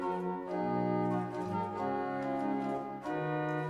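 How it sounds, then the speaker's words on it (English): A real pipe organ plays sustained chords on its principal stops, rich harmonic tones holding steady and shifting between notes, moderately loud and direct with no voices. "But I also got a comparison of the principles, which sounds like this."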